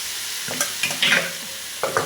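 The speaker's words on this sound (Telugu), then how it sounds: "ఇప్పుడు మనం రవ్వ ఉడకబెట్టిన రవ్వని కలుపుతాము" Boiled rava being stirred into a coriander mixture frying in a pan, a steady close sizzle with scraping spoon strokes at intervals throughout.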